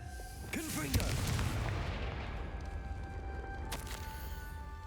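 A Confringo fire spell blasts in Hogwarts Legacy, landing as a booming explosion with a rolling rumble. A second sharp burst follows a few seconds later, over steady game ambience and a brief voice-like tone.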